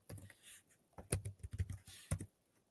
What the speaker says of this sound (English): Okay, so let me type in.